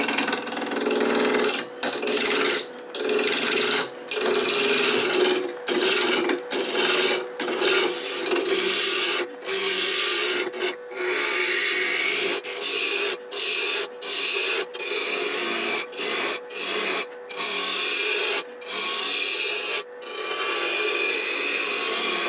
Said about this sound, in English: Lower the handle, ride the bevel so it doesn't cut, and slowly lift till it cuts.